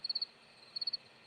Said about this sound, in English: I forgot you might hear the crickets. They are loud.